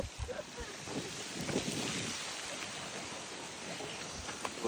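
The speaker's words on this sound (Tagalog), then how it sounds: "Lakas ng hangin!" Strong wind blows on a rainy mountain trail, a broad steady roar with gusty buffeting on the microphone, loud and close, with a few brief voices early on.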